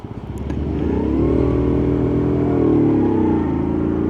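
A Mitsubishi Colt car pulls away in third gear, its engine note building from idle into a loud, steady droning rise that holds close and strong to the end.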